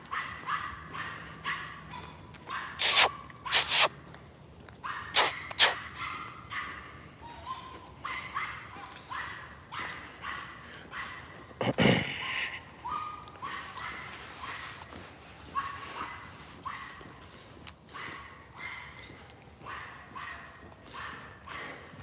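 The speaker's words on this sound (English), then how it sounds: "somebody shut that dog up" A dog barks repeatedly at a distance in irregular bursts, some sharp and loud, others softer yips, with someone talking at times over the barking.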